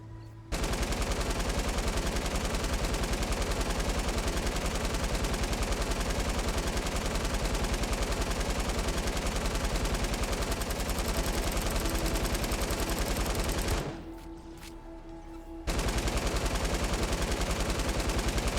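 Light machine gun in the Fortnite video game firing a long, unbroken stream of rapid shots, loud and close, with one brief pause near the end before the burst resumes.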